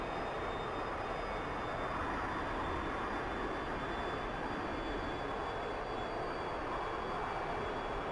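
Steady broadband jet engine roar of an F-16I Sufa spooling up for taxi in DCS World, loud and continuous with faint high whine tones, no voices.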